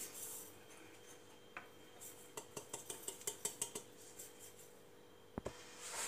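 Ground semolina dosa batter scraped from a mixer jar into a mixing bowl, a run of quick rhythmic metallic taps and scrapes from a spoon on the jar, close but fairly soft, then a single louder knock near the end.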